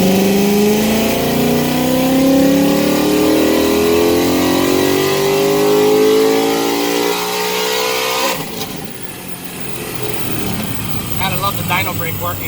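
A supercharged 2019 Mustang GT with a 120mm pulley revs on a dyno, its loud engine climbing steadily in pitch for about eight seconds before easing off and dropping away to a lower drone.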